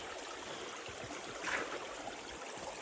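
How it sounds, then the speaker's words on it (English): A small creek runs across a hiking trail in Tasmanian wilderness, its water flowing in a steady, close rush and trickle for the whole stretch, with no voices over it. "Little creek crossing."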